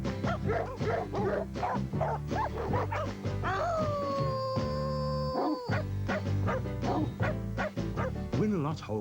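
Dogs bark and yip in a UK television advert from around 1990–1991, with short barks and whimpers repeating over a busy music bed and a voice.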